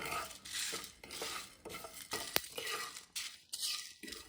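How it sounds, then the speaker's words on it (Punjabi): Coriander seeds, cumin and dried red chilies dry-roasting over low heat in a pan, giving scattered soft crackles and pops with light scraping and clinks of a utensil against the pan, one sharp tick standing out. "ਮਸਾਲੇ ਦਾ ਰੰਗ ਥੋੜਾ ਜਿਹਾ ਬਦਲ ਗਿਆ ਇਹਦੇ ਵਿੱਚੋਂ ਚਟਕਣ ਦੀ ਆਵਾਜ਼ ਆਉਣ ਲੱਗ ਗਈ"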